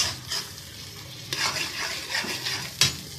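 Beef brain masala with tomatoes fries in oil, giving a steady soft sizzle while a spoon scrapes and stirs the pan in several close, clattering strokes.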